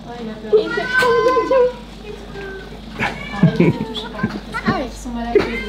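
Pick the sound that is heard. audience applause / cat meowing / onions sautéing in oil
cat meowing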